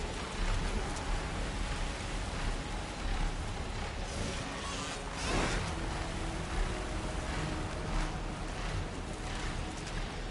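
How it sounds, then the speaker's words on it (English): Steady rain falls in the video game Horizon Forbidden West, a dense, even hiss that carries through the whole stretch, with a brief soft thump partway through. "Oh wow, it's rainy there?"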